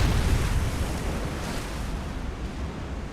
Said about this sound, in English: Very good underwater hit.